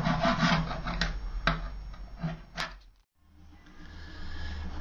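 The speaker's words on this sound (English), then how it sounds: "I love scraping." Rough scraping of rust off metal with a hand tool, several rasping strokes followed by a brief quiet gap and then a steady low hum, close up.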